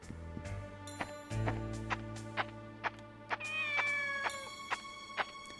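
A kitten meows in a video game, heard as a few rising and falling mewing calls that stand out over steady background music and a string of sharp, regular clicks.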